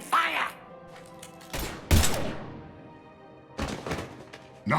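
Gunfire in the Mass Effect 3 video game: a few sharp, heavy shots and thuds in irregular bursts, loud and close, over a low ambient game hum with a faint voice at the start.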